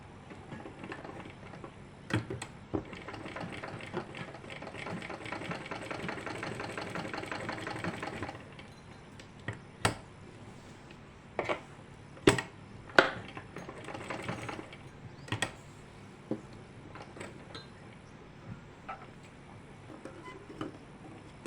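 A sewing machine stitches along the hem of a kameez, a fast steady whirr for several seconds, then stops, followed by scattered sharp clicks and knocks as the fabric is handled.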